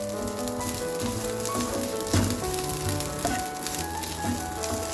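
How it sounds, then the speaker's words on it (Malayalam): Grated coconut roasts with spice powders in a pan for a chana curry, giving a continuous soft sizzle and crackle with faint stirring, heard close and alone. "തേങ്ങ ഒന്ന് മൂത്ത് കഴിയുമ്പോൾ പൊടികൾ ഇട്ട് കൊടുക്കാം."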